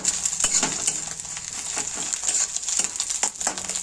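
An egg seasoned with salt and black pepper fries in oil in a pan, giving a bright continuous close sizzle with faint crackles and occasional light scrapes, and no voices.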